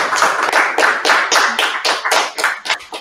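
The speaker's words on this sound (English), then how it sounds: "you got a big round of applause here in the room" Applause from a live audience in a room after a talk on peace and justice in Palestine, a dense burst of hand clapping that swells and thins over about three seconds, close and loud with no speech.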